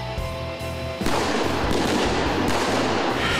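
Gunfire on a police academy shooting-training range in São Paulo, a loud, dense stretch of shots and reverberating blasts that takes over after a brief tonal, music-like opening.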